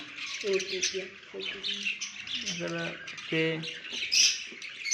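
Cockatiels and finches in a breeding aviary, giving repeated harsh squawks and short chirps in quick bursts, close and fairly loud, with faint background chatter of other birds.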